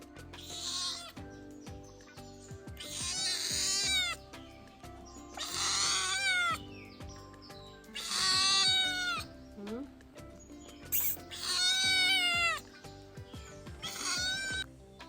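A cat meows repeatedly, about six drawn-out wailing cries at regular intervals, moderately near, with soft speech and household sounds between them.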